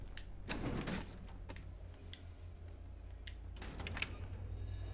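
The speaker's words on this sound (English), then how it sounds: "Beautiful creaky door noise." A creaking door opens in the 2024 Silent Hill 2 game, with faint scraping and clunking sounds spread over several seconds over a low steady hum.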